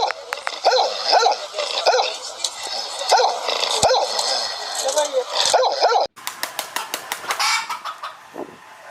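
A dog barks repeatedly in a sharp, loud rhythm at close range, mixed with clucking chickens and a rooster. The yard sound then cuts to a different scene of rapid chirping.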